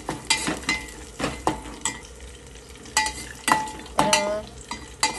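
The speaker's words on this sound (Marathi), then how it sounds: "अशा प्रकारे आपल्याला व्यवस्थित सर्व परतून घ्यायचं आहे" Green chillies and peanuts sautéed in a pan, with a soft sizzle under repeated scraping stir strokes of a spoon against the metal, close and steady over several seconds.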